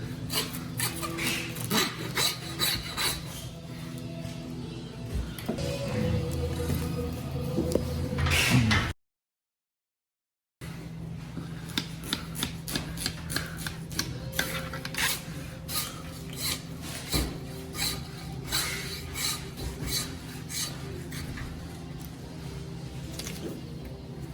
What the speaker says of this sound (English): then we'll use a handsaw to cut all the way through the bone